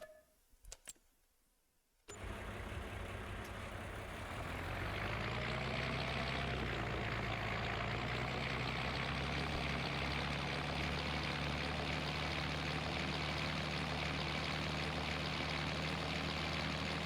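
A tractor with a cultivator on the back rumbles in a farming video game. After a couple of quiet seconds with faint ticks, the engine starts into a loud, steady droning hum that holds to the end.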